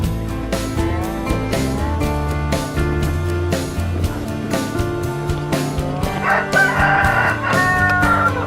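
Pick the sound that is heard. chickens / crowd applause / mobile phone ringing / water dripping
chickens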